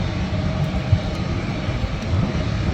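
A plane roars overhead as it comes in to land at Schiphol Airport, a steady broadband rumble of engine and air noise with no break and no voices.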